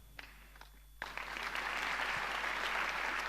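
Applause bursts in after a second of quiet, swelling into sustained clapping from a conference audience at the CCC Congress in a large hall.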